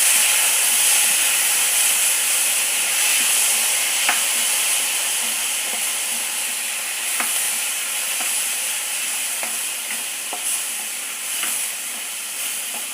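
Tomatoes go into a pan of sautéed onion mixture for kuzhambu, producing a steady, moderately loud hissing sizzle with a few faint clicks of stirring, no voices.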